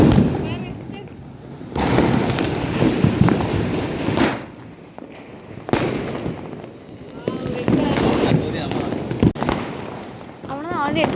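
Diwali firecrackers going off in a string of sharp bursts and crackles, loud and close, with several sudden blasts separated by brief lulls while people talk nearby.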